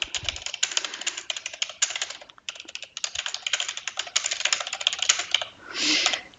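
Close, steady typing on a computer keyboard, a dense run of quick key clicks lasting several seconds with one brief pause, and no talking.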